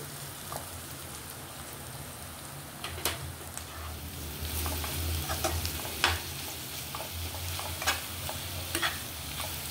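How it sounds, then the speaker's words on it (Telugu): Egg garlic roast fries in a pan over a medium gas flame, giving a steady close sizzle with intermittent crackles and spatula scrapes that grow slightly busier midway. "ఇప్పుడు గ్యాస్ మీడియం ఫ్లేమ్లో పెట్టుకొని ఒక 2 నిమిషాలు అలా వేయించేసుకుందాం"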